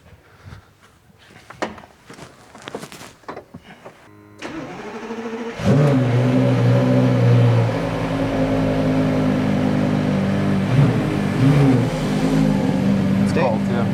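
Porsche Carrera GT engine cold-starting in a workshop, with a sudden loud catch into a high, busy idle that keeps running steadily, preceded by scattered clicks and handling noises.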